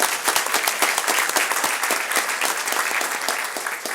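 Dense audience applause at a school board meeting, many hands clapping steadily and loudly throughout the few seconds with no speech over it.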